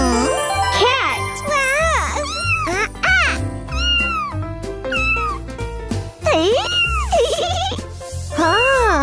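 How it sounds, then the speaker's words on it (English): A house cat meows repeatedly in rising and falling cries, up close and loud, over cheerful jingling children's music with a voice nearby. "Cat!"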